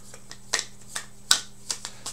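A handful of light papery flicks and rustles, sharp and close, spaced irregularly as slips of paper are shuffled.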